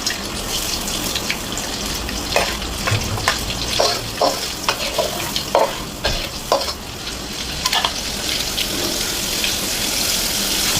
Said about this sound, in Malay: Kita panaskan kuali, masukkan sedikit minyak dan campur sedikit butter.